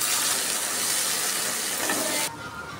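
Water is poured into onion and garlic paste frying in hot oil, giving a loud, steady hiss and sizzle for over two seconds before dropping abruptly to a quieter simmer.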